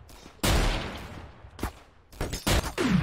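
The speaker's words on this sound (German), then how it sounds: "Also Kevin, da hast du gerade nicht gut geschossen" Gunfire in the game Trouble in Terrorist Town: loud, close shots in several sharp bursts that ring out with short gaps between them, and no talk over them.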